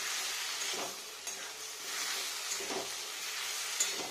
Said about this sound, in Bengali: পোস্তটা দিয়ে নাড়া দিয়ে নিই।